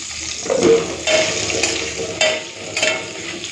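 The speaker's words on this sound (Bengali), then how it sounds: "এই তেলেই আলুগুলো ভেজে নেব।" Loud hissing sizzle of potatoes frying in oil, with a few bursts and scraping stirs recurring at intervals; no speech.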